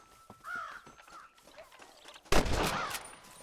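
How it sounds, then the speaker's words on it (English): A crow caws a few times in the video game Red Dead Redemption, with soft ambient game sounds, before a sudden loud burst of gunfire cuts in. "One crow."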